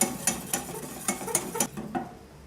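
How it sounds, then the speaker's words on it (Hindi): Chocolate sauce with cocoa powder being whisked in a pan, producing quick, regular metallic taps and scrapes in a close, steady rhythm with no voices. "इसको विस्क के साथ अच्छी तरह मिक्स करेंगे ताकि इसमें कोई लम्स ना बने।"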